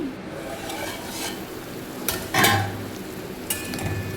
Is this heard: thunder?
no